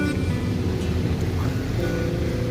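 Steady sea waves and surf at Falajawa beach in Ternate, a continuous low rushing wash that stays loud throughout, with no clear voices over it.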